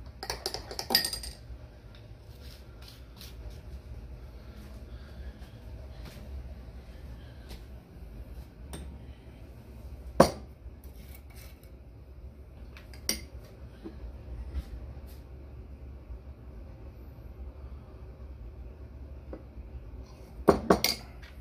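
A spoon clinks against a cup while syrup such as Monin Amaretto or Torani Irish Cream is stirred into coffee, giving a few sharp metallic taps, paired near the start and end, over a quiet room.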